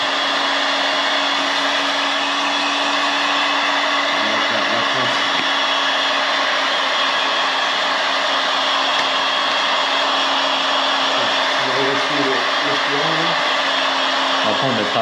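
A heat gun warming paint protection film on a KTM motorcycle gives a steady, unbroken blowing roar for the whole stretch, close and loud, with a faint voice briefly audible beneath it.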